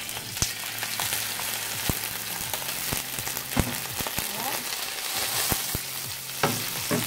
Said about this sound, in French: Ensuite, je fais revenir mes champignons.